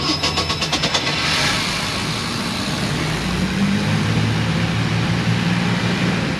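Engine of a 1999 Formula 280 Sun Sport boat, freshly swapped, catching with rapid cranking pulses and then settling into a steady, loud, rumbling run close by.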